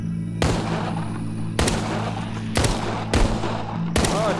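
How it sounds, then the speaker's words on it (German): Revolver gunfire in the VR zombie game Arizona Sunshine: five sharp, loud shots spaced unevenly about a second apart, each ringing out over a steady low game hum, with no talking. "Der Revolver ist auch echt eine geile Waffe."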